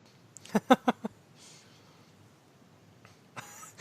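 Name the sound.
cough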